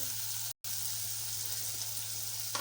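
A turmeric spice mixture frying in a pan gives a quiet, steady sizzle, briefly cut by a short gap of silence.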